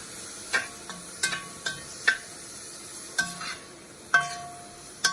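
Garlic frying in a pan for spring rolls, a quiet soft sizzle punctuated by a series of sharp metallic clinks and scrapes from stirring, spaced irregularly about once a second.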